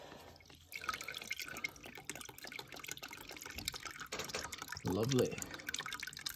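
Engine oil drips and trickles into a drain bowl during a service of a BMW GS1200 K25 motorcycle, a close stream of irregular drips and splashes, with someone speaking briefly over it.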